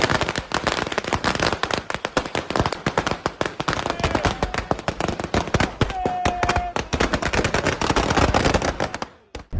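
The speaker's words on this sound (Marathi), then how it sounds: "शिव सैनिकों ने पटाखे फोड़कर और मिठाई बांटकर जश्न मनाया" A long string of firecrackers set off by Shiv Sainiks celebrating outside an MLA's office in Civil Lines, Amravati. Loud, dense, rapid bursts keep going for nearly ten seconds and stop abruptly, with a faint voice underneath.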